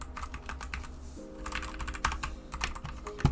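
Brisk typing on a small new custom keyboard, with quick, uneven clicky keystrokes and a few louder taps, close and fairly quiet, playing alone over a low background hum.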